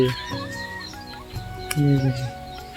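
Several storks call and clatter from nearby nests in a tree, overlapping one another, while people talk underneath.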